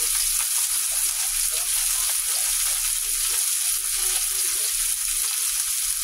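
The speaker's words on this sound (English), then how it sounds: "I'm just washing the pepper good" A pepper is washed under running water, giving a constant close hissing splash with no pauses for the whole stretch and a faint voice underneath.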